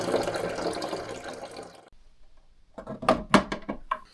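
Water runs from a Glacier Fresh countertop cold water dispenser in a steady, close stream for about two seconds, then stops, followed by a few louder clunks and splashes.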